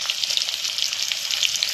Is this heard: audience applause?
no